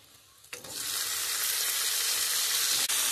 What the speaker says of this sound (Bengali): এবারে টমাটো কাঁচা লঙ্কা একটু ভেজে নেবো